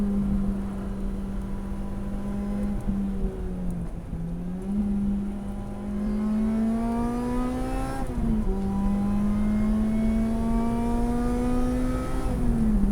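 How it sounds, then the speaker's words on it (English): A 2007 Lotus Exige S220 being driven on a race track: steady engine drone that dips and climbs as the throttle is lifted and reapplied, with rising revs toward the end, heard from inside the car. "Again, using the throttle to slightly tuck in the nose. Such a dynamic vehicle."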